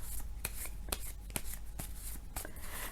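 Tarot cards being shuffled by hand, a steady riffling, rubbing texture broken by regular sharp slaps as cards are cut and drawn, close and fairly loud with no talk over it.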